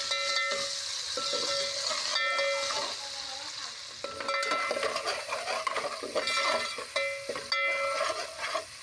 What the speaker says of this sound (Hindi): अब हम टमाटर के नरम होने तक इसको फ्राई करेंगे।